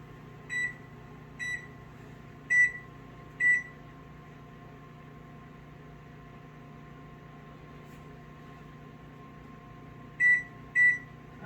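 Oven timer being set on a preset appliance while cooking fried rice: four short electronic beeps in a row, then a long stretch of steady running hum, then two more beeps, moderately loud with no talking.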